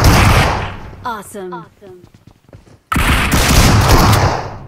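Loud bursts of rapid automatic gunfire from the BGMI battle royale game roar at the start and again near the end. A voice speaks in the quieter gap between them.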